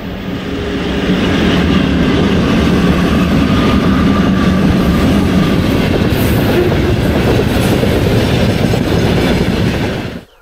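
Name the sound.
train passing on railway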